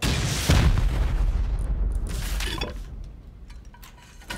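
Rocket explosions blast through a heavily barricaded base during a video game raid, a loud booming burst up front that fades into rumbling debris and faint clinks, with no talking.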